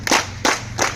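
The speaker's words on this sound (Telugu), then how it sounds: "ఒకసారి మీకు మీరు క్లాప్స్ కొట్టుకుని, నా కొరకు కాదు" Audience clapping at a gathering, heard as three short loud bursts of claps about a third of a second apart, with a low steady hum underneath.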